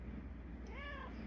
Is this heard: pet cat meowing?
yes